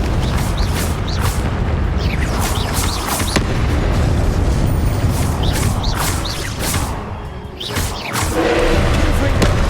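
Confringo spell blasts in Hogwarts Legacy, repeated booming explosions and heavy thuds stacking over a dense, loud combat din, with voices heard among the clamor.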